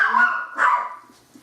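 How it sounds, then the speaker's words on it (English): A Yorkie dog barks for its dinner, giving two quick, close, high yappy barks in a row, then falls quiet. "it's time for my dogs to be fed"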